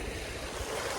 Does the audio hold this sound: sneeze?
no